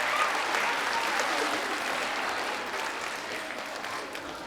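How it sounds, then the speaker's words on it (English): Audience applause at a school spring band and chorus concert, steady and dense throughout, a crowd clapping continuously without talk. "So give yourselves a round of applause, and for Sarah as well."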